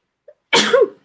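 A single sharp sneeze, close and fairly loud, preceded by a tiny intake of breath.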